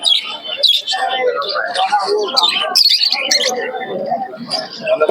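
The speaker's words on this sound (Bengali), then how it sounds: "এখানে কিছু কালনামা লাইনের কবুতর আছে" Pigeons at a crowded pigeon market in Shantipur chirp, coo and flutter in close, busy bursts throughout, mixed with people talking nearby.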